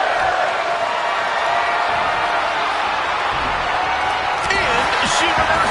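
Roaring arena crowd in the WWE 2K25 wrestling video game, a steady loud wash of cheering and noise that holds throughout, with a few brief whoops or tonal calls rising near the end.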